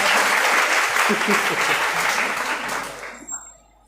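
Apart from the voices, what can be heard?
audience applause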